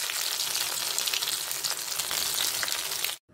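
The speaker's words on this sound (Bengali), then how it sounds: "ভেজে নিচ্ছি কোপ্তাগুলো" Koftas fry in hot oil in a pan with a loud, continuous sizzle and crackle up close. The sizzling stops abruptly at the end.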